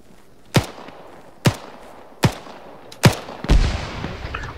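Gunfire in the video game ArmA 3, four sharp single shots spaced roughly a second apart, then a longer rumbling blast, each followed by a brief echoing tail.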